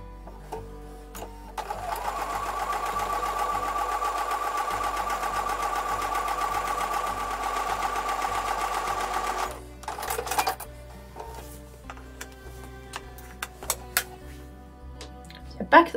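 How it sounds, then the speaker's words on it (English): A sewing machine stitches quilt block pieces for a Tiara Crown block in a steady close hum for several seconds, then stops, followed by light handling clicks and rustles. "I'm going to take these over to the sewing machine and I'm going to sew once again on both sides of the line"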